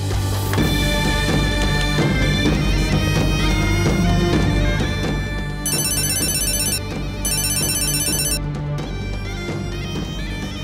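A phone ringtone for an incoming call sounds loud and close, a steady repeating melodic tone that plays on without a break, with no talking over it.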